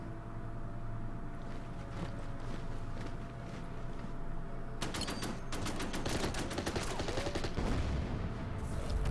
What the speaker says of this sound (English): British tank shoots at the mortar